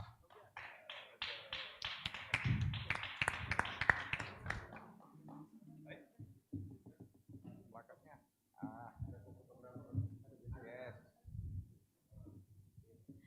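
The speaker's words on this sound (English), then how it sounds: "Let us give a warm round of applause." A round of applause from a forum audience on challenges to U.S. democracy, greeting Professor Schuler as he receives a token of appreciation; dense clapping fills about four seconds, then fades under a voice speaking.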